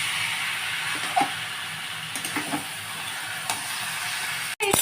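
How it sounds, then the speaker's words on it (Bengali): Boiled taro leaves stirred in a pan give a continuous close hiss and sizzle, with a few faint scraping strokes of the spoon and a brief knock near the end. "আচ্ছা এবার আমি কচুটা এবার নাড়তে থাকছি"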